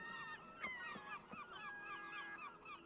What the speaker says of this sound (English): God, those seagulls are loud.